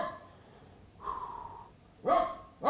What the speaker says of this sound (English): That is Louie, my dog. He's outside.